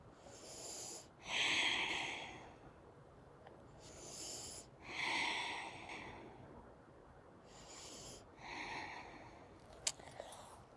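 Slow, deliberate breaths during a seated chair yoga hamstring stretch, four soft airy inhale-exhale swells spaced a couple of seconds apart, close and quiet, with a small tap near the end.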